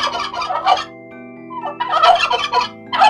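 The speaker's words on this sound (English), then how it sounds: "Turkey." A turkey gobbles in loud, rapid bursts, three separate rattling calls close to the microphone over a soft sustained musical background.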